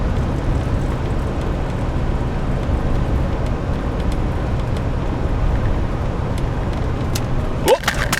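A Cadillac car drives along at a steady pace, its continuous low engine and road rumble holding throughout. A brief knock or handling sound comes near the end.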